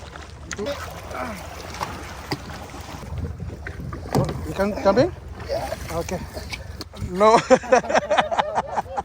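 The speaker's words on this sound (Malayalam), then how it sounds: "വീണ്ടും പുറത്തേക്ക് ബോട്ട് എടുക്കുവാണ്" A boat motor runs at sea during deep-sea fishing off Oman, with wind buffeting the microphone, while people talk over the engine noise throughout.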